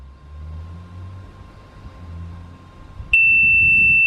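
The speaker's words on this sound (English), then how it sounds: "and then release on one long beep" Hansshow motorised frunk on a Tesla emits one long, loud, steady electronic beep when its height position is set, cutting in sharply after a quiet low rumble and holding for about a second.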